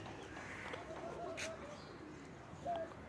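Pigeons in a pigeon loft coo softly and faintly, giving a few short, low calls over a quiet, hissy background.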